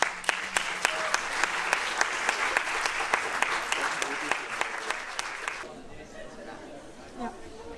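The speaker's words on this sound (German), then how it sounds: "Also dafür auch nochmal einen mega Applaus" An audience at a 2019 film premiere at the FaF cinema in Berlin's Friedrichshain claps steadily with a few sharp individual claps. The applause fades out after about five and a half seconds, leaving a quiet room with faint murmurs.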